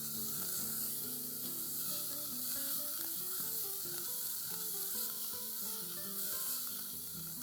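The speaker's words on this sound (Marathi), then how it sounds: "हा चांगला लाल होईपर्यंत फ्राय करून घ्यायचा आहे आपल्याला" Finely chopped onion frying in a pan, a faint, even sizzle that holds steady throughout with soft stirring underneath and no voices.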